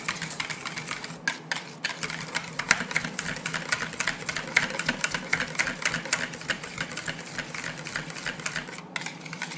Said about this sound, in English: we're going to combine that and mix it until it's well combined.